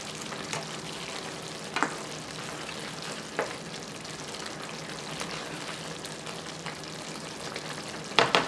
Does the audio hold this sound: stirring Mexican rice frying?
yes